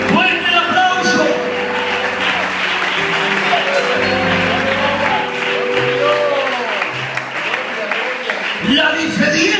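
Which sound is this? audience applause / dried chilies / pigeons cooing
audience applause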